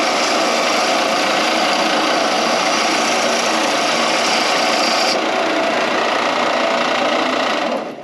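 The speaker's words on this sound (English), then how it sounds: "We don't have a real aggressive sander on there, but just a little bit." A light sander bevels and cleans the edge of steel round tubing, giving a loud, continuous abrasive grinding hiss at close range that holds steady for several seconds before tapering off at the end.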